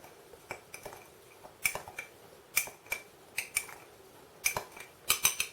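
Light metallic clinks and scrapes of a spoon stirring a dried herb seasoning mix in a bowl, irregular taps clustered in short bursts, close up with no talking.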